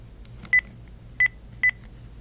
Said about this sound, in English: let me dial their number